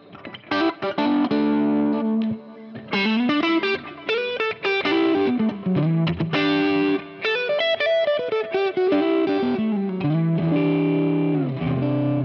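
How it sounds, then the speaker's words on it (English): Electric guitar played through the spring reverb setting of a Strymon Big Sky pedal, a continuous run of loud, sustained chords and melodic notes with a springy wash trailing each phrase, no talking. "So small is gonna be a spring reverb."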